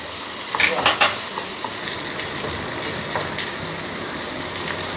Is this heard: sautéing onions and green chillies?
yes